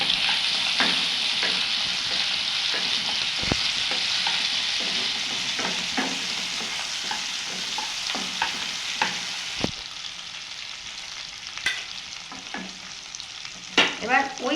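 Tomatoes and ginger paste fry in oil in a pan for a vegetarian aloo dum, giving a steady, fairly loud sizzle broken by irregular scraping clicks of stirring throughout.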